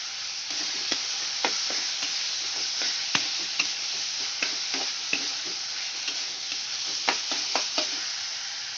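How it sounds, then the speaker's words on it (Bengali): Spices and tomato being sautéed in a pan for chhana-potato tadka: a steady sizzle with repeated clicks and scrapes of a spoon stirring, close and moderately loud. "দিয়ে দেব পরিমাণ মতো নুন দিয়ে আমি ভালো করে কষিয়ে নেব"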